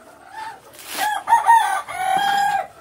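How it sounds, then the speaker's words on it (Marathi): Chickens cluck nearby while a rooster crows loudly, the calls overlapping in a busy farmyard chorus near Vijaydurg, Maharashtra. "कोंबड्यांचाही आवाज येतोय"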